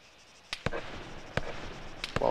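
Gunfire in the Arma 3 military game, four sharp distant reports spaced unevenly over a quiet background, each with a brief echoing tail.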